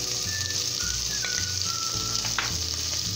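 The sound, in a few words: ají peppers sizzling while frying in a pan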